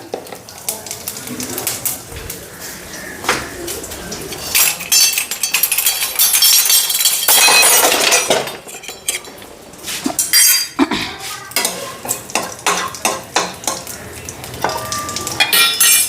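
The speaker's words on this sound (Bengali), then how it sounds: "একটু জিরা আর শুকনো লঙ্কা সম্বার দিয়ে দিলাম" Cumin seeds and dried red chillies tempering in a hot wok for a cucumber dish, a busy sizzle with clattering utensil scrapes and clinks, loud and close, with some speech mixed in.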